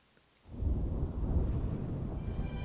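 A thunderstorm in a Pokemon Sleep presentation opens with a sudden rolling thunder crash after a short silence, then a steady rumbling storm roar with rain-like hiss that carries on at moderate volume.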